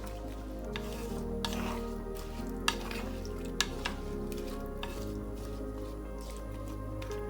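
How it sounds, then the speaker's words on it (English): Raw banana and yam kootu, a thick side dish, being tossed and stirred in a pot, giving a steady soft sizzle with wet squishing scrapes and a couple of sharp clinks throughout. "I've tossed it well"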